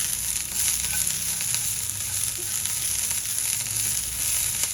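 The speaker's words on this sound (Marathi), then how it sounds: "त्यावर आपण थोडे कोथिंबीरचे दांडे घालूया. थोडा कढीपत्ता घालूया आणि मिनिटभर परतून घेऊया." Onion and coconut sizzle steadily in hot oil in a pan with coriander stems and curry leaves, a continuous close frying hiss with occasional stirring for a prawn rassa masala.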